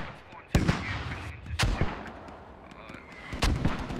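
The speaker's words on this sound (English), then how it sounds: "Now putting mortars on." Mortar rounds in a military shooter game land as three loud, sharp booms spaced about a second apart, each with a rumbling tail, over a constant backdrop of distant battle noise.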